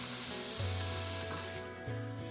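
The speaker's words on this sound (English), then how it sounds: "get your meat frying" Sausage meat fries in a pan, a continuous close sizzle with occasional scraping or stirring sounds, and no one speaks.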